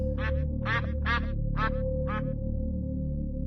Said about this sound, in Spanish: algo parecido a un graznido muy profundo, como el de un pato, pero amplificado y más grave